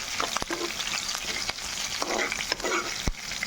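Four cut green chillies sizzle in hot oil in a pan while being stirred, a steady frying hiss broken by sharp scraping clacks of the spoon against the pan.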